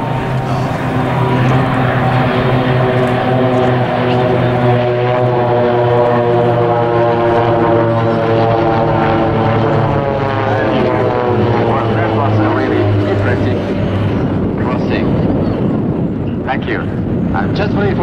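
A Pilatus PC-7 propeller plane performs at an air show, its loud droning engine tone sweeping down in pitch as it passes close overhead and then fading, with no talk over it.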